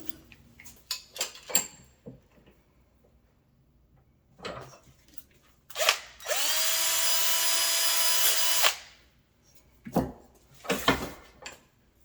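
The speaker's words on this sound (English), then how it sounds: "You'll be able to see how big we're going to drill it out" Scattered clicks and tool handling, then a small power drill whines steadily for a couple of seconds, drilling out a gas appliance burner orifice, before stopping, followed by more clunks.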